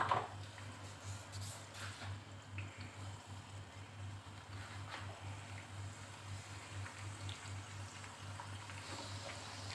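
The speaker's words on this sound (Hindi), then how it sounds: "हमने ये जो रोटी बनाई है इसे इसी में इस तरह से फ्राई करेंगे" A rolled wheat-dough roti fries in hot oil, giving a soft, continuous bubbling sizzle with a low steady hum underneath, quiet and unbroken throughout.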